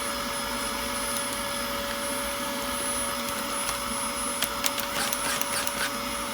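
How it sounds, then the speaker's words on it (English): A Dyson upright vacuum cleaner runs steadily on a cold start at minus 27, a constant motor whine with a few faint clicks and rattles from the machine partway through. "Okay, now it's just a vacuum."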